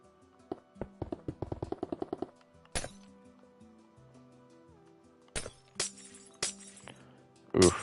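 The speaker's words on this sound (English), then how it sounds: "Oof, smashing glass." Glass panes smash in Minecraft, a handful of sharp separate crashes spaced a second or so apart, ringing out over soft, steady game music.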